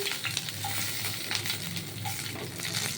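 Green chillies sizzle and crackle steadily in a hot pan of oil as they are stirred for a pumpkin leaf bharta, a close, continuous hiss with small pops and scraping.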